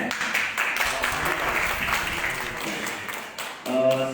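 Audience applause at an award ceremony for culture masters and practitioners fills the room as sustained, dense clapping from a crowd. Near the end a voice speaks over it.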